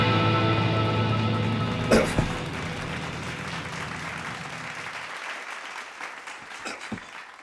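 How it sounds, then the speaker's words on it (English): A late-night talk show studio audience applauds a guest's arrival, with music fading under the clapping, a couple of sharp bursts, then the applause thinning out to scattered claps. "Let's have a big round of applause for Mr. Bob Furbride."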